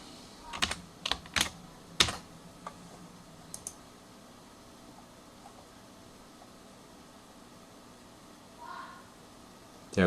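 Computer keyboard keys pressed in a short burst of sharp, close clicks while a password is entered during a Fedora 19 first boot on a virtual machine, followed by near silence and a faint soft tone.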